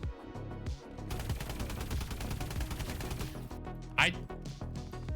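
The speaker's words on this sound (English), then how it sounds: "Laser gun." A rapid-firing laser gun in Call of Duty: Advanced Warfare buzzes in a dense, fast stream of shots for a few seconds, followed by a brief sharp whoosh, with scattered game noise around it.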